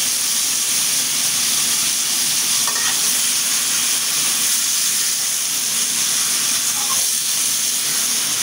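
Water lily stems and shrimp hiss and sizzle in a frying pan, a loud, continuous crackle with a couple of faint clinks of stirring.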